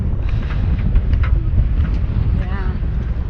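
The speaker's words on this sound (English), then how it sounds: "Constantly windy here." Wind buffets the microphone in low rumbling gusts at a dusty parking lot in White Sands National Park, New Mexico, with faint scattered sounds in the background and no clear talk.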